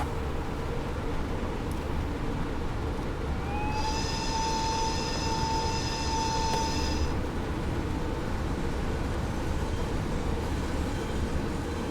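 ÖBB 1020 Krokodil electric locomotive pulling a train and powering up, with steady running rumble throughout and a rising tonal whine that swells in the middle and then cuts off.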